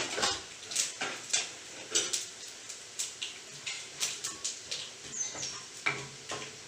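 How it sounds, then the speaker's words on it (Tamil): Mustard seeds, urad dal and cumin spluttering in hot oil for a tempering, with irregular sharp pops and crackles scattered close by over a quiet background, with no voices. "கடுகு நல்லா பொரியட்டுங்க."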